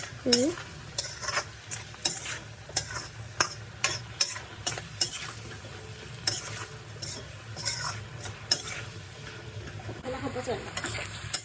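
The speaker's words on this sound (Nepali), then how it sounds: "क्युमिन, कोरिएन्डर पाउडर अनि त्यसपछि सल्ट अनि चलायो राम्रोसँग फेरि" Chicken wings sizzle in a pan while cumin, coriander powder and salt are stirred in, and a spatula scrapes and clinks in irregular bursts over a steady frying hiss.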